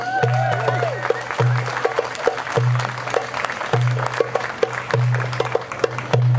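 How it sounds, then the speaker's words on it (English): At an Earth Day puppetry show, an audience claps unevenly in scattered bursts while a low, steady rhythmic hum pulses underneath at regular intervals, with some voices and music-like tones mixed in. "give it a round of applause"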